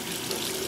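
Warm tap water runs steadily into a sink while a doll is being cleaned, a continuous close splashing stream with no talking.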